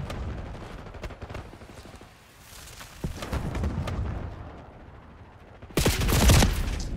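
Gunfire from the video game Black Ops 6, with scattered shots and rapid bursts at middle distance, rising to a loud heavy volley near the end; no talking heard.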